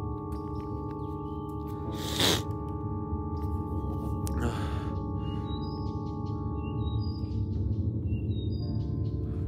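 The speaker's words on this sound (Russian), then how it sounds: "Еще этот жуткий звук птиц" Eerie bird calls sound in a forest near Chernobyl as a run of short, high, sliding chirps over a steady low hum, with one louder rushing burst partway through.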